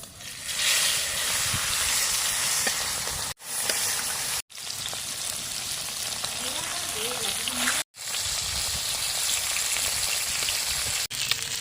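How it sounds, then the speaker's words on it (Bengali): Small hilsa fish coated in salt and turmeric fry in hot oil, giving a loud, steady broadband sizzle broken by a few abrupt gaps. "নুন হলুদ মাখানো মাছ ভেজে নেব"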